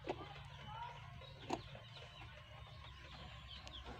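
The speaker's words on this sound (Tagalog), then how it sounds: "Sa tabi naman may mga alaga naman tayong manok." Farm chickens cluck softly in the background, with a couple of sharper squawks standing out against a steady low hum.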